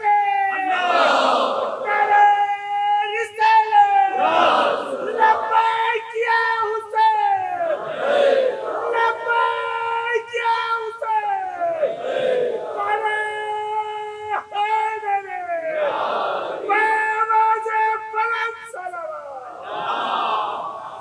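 A large crowd of devotees at a religious gathering shouts takbir slogans in loud, rhythmic call-and-response bursts, swelling voices repeating roughly every two and a half seconds over about twenty seconds.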